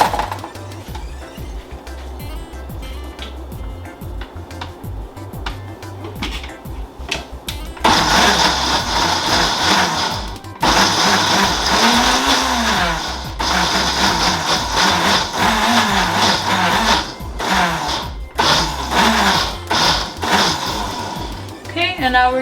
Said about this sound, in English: let it like fully blend